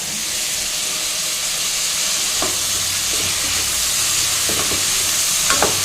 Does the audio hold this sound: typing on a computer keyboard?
no